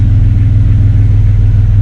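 A 2001 Jeep Cherokee XJ engine idles steadily after new spark plugs, low, close and even, with a smooth continuous rumble and no revving.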